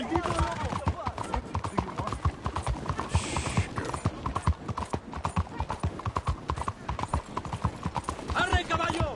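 Red Dead Redemption 2 horse hooves clip-clop in a rapid, steady rhythm throughout, with a brief whinny near the start, loud and close, while a voice speaks over the riding.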